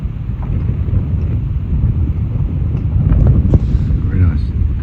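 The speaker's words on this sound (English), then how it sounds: "a bit windy today, as you can probably hear" Strong wind buffets the microphone with a constant low roar on a bay at the bottom of Guadeloupe, steady and loud throughout, with faint voices underneath.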